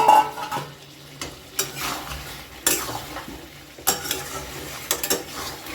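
Fried potatoes stirred into a mutton curry in a pot, a spoon scraping and clattering in loud irregular bursts over a soft background sizzle.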